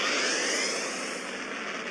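A steady, loud roaring whoosh plays alone as a ship's warp engine engages in the space video game Second Galaxy.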